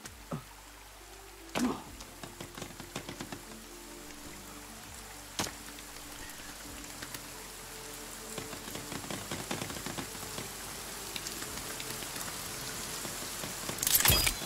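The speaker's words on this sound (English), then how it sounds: "Rain is so loud." Rain falls steadily in the survival video game The Forest, a soft even patter with occasional louder clicks and knocks over it and no talking.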